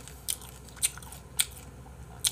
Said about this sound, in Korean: 야, 이거 엄청 맛있네. 닭껍질 튀김.